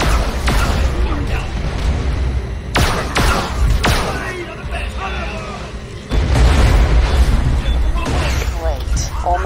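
Old turrets in Borderlands: The Pre-Sequel fire heavy, booming blasts, several loud thuds spaced a second or more apart over a dense wash of continuous game noise.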